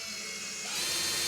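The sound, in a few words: electric screwdriver driving screws into IKEA SUNDVIK bed supports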